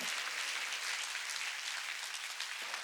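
A church congregation at a Korean Sunday worship service, part of an autumn mountain revival meeting, applauding steadily and densely with many hands for the whole moment, with no voices rising above it.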